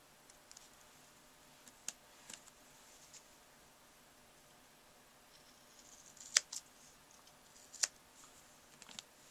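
Quiet, sparse clicks of non-stick scissors trimming sticky cling cushion, a few sharp snips spaced seconds apart against a soft background hiss.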